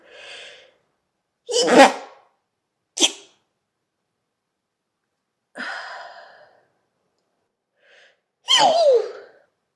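Repeated sneezes from a person indoors while cleaning up around a shedding cat, several loud bursts spread across the moment with quiet breathing and sighs between them.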